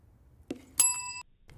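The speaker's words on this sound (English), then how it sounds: "he'll hit the bell" A single bright bell struck once in a reaction-time test, ringing clearly with a short sustained tone before cutting off, preceded by a soft knock.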